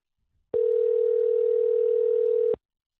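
A steady telephone dial tone sounds loud and alone for about two seconds on an office sales line, starting and stopping abruptly.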